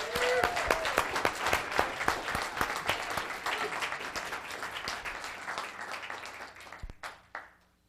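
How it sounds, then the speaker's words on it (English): Applause from the audience at a Los Gatos town council meeting rises at once into dense clapping, then thins gradually over several seconds into scattered last claps. "How about a big round of applause to Mr."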